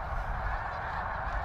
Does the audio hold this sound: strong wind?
no